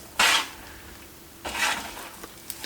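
Homemade coconut granola mixture is stirred in a pan, giving two short bursts of scraping and clatter a little over a second apart, then a few faint light taps.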